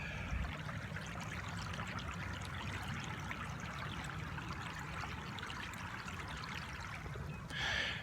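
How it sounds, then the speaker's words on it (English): The Saline River rushes steadily nearby at Jenkins' Ferry, Arkansas, a continuous broadband flow of moving water heard alone at low level, with a brief louder splash near the end. "see if you can just hear the water kind of rushing here just a second"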